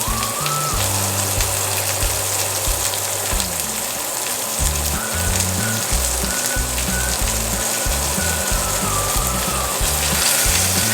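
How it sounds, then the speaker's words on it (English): A seasoned ribeye steak sears in a hot pan, giving a steady, loud sizzle and crackle that runs continuously for the whole stretch, with low rumbling background noise underneath. "what I'm trying to do now is just get a sear on there, so I got to sear all that seasoning on there."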